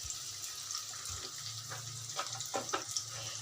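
Onion, garlic and green chillies fry in oil on a stove as the base for salted hilsa bhuna, giving a steady broadband sizzle with a low hum beneath and a few sharper spatters and clinks toward the end.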